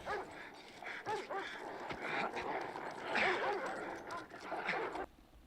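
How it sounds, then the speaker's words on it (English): Dogs bark and yip in a film scene while chasing Conan, a quick series of barks and whimpers at moderate distance, mixed with faint film sound and voices. "Chased by dogs."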